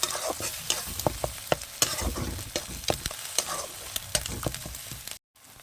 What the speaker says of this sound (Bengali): এবার আমি খঞ্চিটা ভালো করে একটু নাড়িয়ে নেবো মশলার সাথে মিশিয়ে নেবো